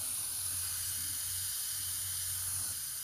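Airbrush spraying paint in a continuous, steady hiss with a faint low hum beneath, close and unbroken throughout, with no voices.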